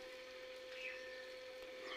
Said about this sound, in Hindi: थोड़ा सा पानी ऐड करेंगे ताकि हमारे प्याज और टमाटर गल जाएं